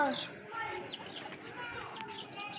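A pet chicken in a home flock clucks among other birds, with soft calls scattered over a faint background. A person talks at moderate volume.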